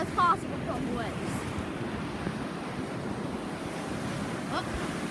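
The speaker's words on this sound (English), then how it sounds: "I'm gonna stay as far away as possible from the waves" Steady ocean surf washes onto a beach in a continuous broad roar with gusty wind buffeting the microphone, loud and close throughout, with a brief voice near the start.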